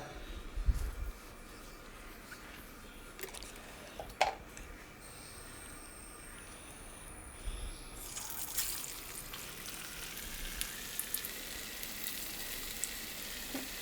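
Urad dal vadas fry in a small amount of oil in an iron pan, making a continuous low sizzle with occasional clatter and a brighter, busier hiss in the later part.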